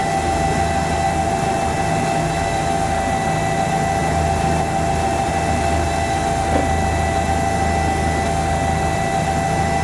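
Bell 206 helicopter in the X-Plane simulator coming around for a right-side touchdown, its engine and rotor droning loud and constant with a steady whine and no talking.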